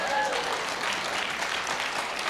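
Audience applause at a town hall meeting with a senator, a steady wash of clapping from a roomful of people, loud and continuous with a few faint voices mixed in.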